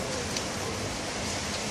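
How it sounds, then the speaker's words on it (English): Cold rain falls outdoors as a dense, even hiss that stays constant for a short moment. "This is a really cold rain."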